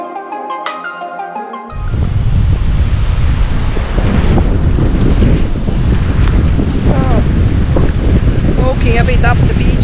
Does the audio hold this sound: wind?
yes